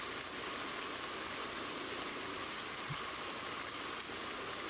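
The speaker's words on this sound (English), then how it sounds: "This isn't too bad of a rainstorm, though." A rain shower in the survival game Stranded Deep falls as an even, continuous hiss of rainfall. It stays steady and fairly quiet throughout, with no talking.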